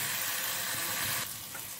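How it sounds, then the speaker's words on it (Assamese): Meat frying in a pan, a brief close hiss of sizzling that drops slightly in level toward the end, quiet and continuous. "মাংসখিনি ভালদৰে এতিয়া ভাজি ল'ম"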